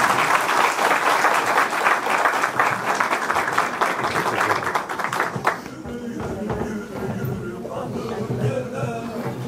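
Sustained clapping from a crowd at a Büyük Birlik Partisi political event in Pendik, loud and dense for about five seconds before fading into a quieter room murmur.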